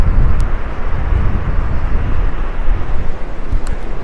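Wind buffeting a handheld microphone outdoors on a gusty morning, a steady low rumbling roar that fills the whole stretch without letup, with no talking.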